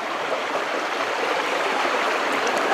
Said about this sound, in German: Hier ist ein kleiner Wasserfall zu sehen.